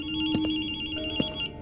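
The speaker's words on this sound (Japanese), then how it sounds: "電話だぜ。" A telephone in the video game Ghostwire: Tokyo rings with a steady electronic trill, a brief pulsing ringtone heard close and clear with no voices over it.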